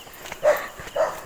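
A dog barks at night on the hillside steps of the 1000 Steps Holy Cross in Minalungao, giving two short, fairly close barks about half a second apart against a quiet background.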